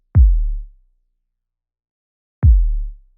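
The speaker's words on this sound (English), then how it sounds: "this round kick" Two isolated hits of a round electronic kick drum sample, each a clean, deep booming thump with a smooth decay, spaced about two seconds apart with silence between.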